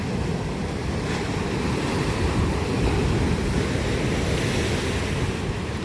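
Stormy sea waves roll in and break on the shore one after another, making a constant loud roar of surf mixed with wind buffeting the microphone, with no voices.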